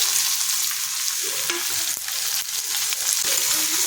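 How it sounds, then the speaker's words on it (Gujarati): Onions stirred into hot oil with cumin seeds, curry leaves and asafoetida for a Kathiyawadi onion curry, giving a steady close sizzle and frying hiss with occasional scraping stirs, no voices. "હવે આપણે એમાં ડુંગળી નાખીશું।"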